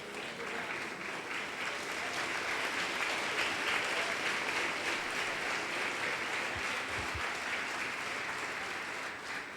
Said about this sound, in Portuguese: Pode se assentar aplaudindo a Jesus.